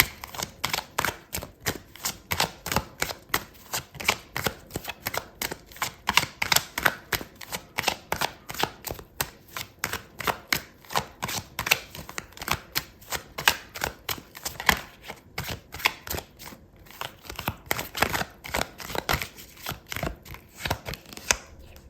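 Tarot cards being shuffled and handled during a Gemini love reading, a steady run of crisp, rapid riffling snaps and flicks lasting throughout, close and fairly loud with no talking.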